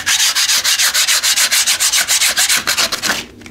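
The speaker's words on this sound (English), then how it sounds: "or you can just use a scraper." A scraper strips wallpaper off a wall in quick, even back-and-forth strokes, about twenty rasping scrapes in a steady rhythm, close and loud with no voices.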